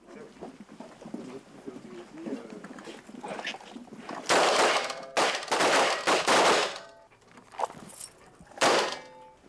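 Several sharp gunshots crack in irregular bursts, loud and close, from a police shooting drill at a range, with a few single shots spaced apart amid faint background noise.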